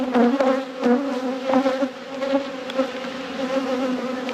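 Honey bees buzz densely and continuously around an opened hive during an inspection after winter, a close, wavering drone with individual bees passing near, and no voices.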